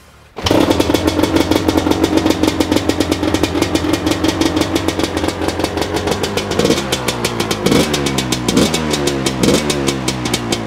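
A cross car with a newly rebuilt engine fires up and settles into a loud, rough, rapid idle. It revs sharply several times toward the end, close and dominant, with no talking over it.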